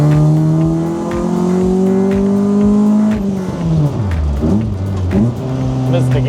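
Interior sound of a racecar cruising at highway speed: a loud, steady engine drone with whine, then the revs sag and flare unevenly as a gearshift is missed, close and continuous.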